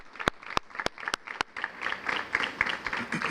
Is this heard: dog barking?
no